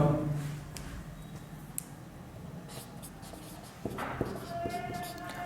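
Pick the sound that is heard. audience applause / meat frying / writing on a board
writing on a board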